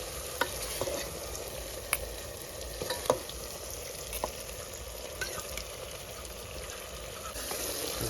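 Soaked chili goes into urad dal gravy simmering in a pan, giving a faint continuous sizzle with scattered small clinks and stirring taps, no voices.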